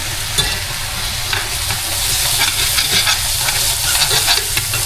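Chicken cooking in butter and oil in a not-well-seasoned skillet, a loud, continuous close sizzle with crackling spatter and stirring noises, no talking.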